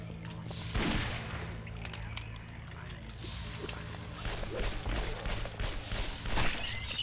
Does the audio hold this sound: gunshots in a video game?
yes